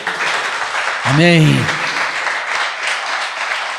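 A church congregation at a communion service applauds in a steady, full wash of clapping that carries on under a man's sung and spoken voice.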